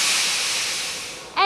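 Steam engine venting a broad, steady hiss that slowly fades, ending with a brief higher-pitched whistling burst at the close.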